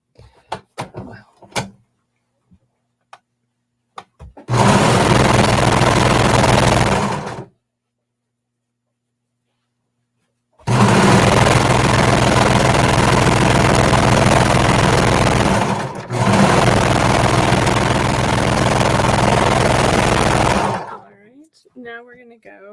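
A sewing machine stitches a seam on a jacket in three sustained runs, a loud, even mechanical whir that starts and stops with silent gaps, preceded by faint clicks and handling sounds.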